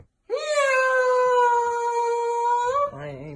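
A voice imitates a cat with one long, drawn-out, howling meow that holds steady for over two seconds, then ends with a short lower vocal tail, loud and close.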